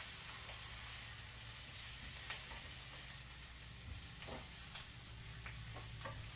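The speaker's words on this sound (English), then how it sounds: "stirring it around" Vegetables cooking in a pan while being stirred around, a soft, low sizzle with scattered light scraping clicks from the stirring, quiet and close; no voices.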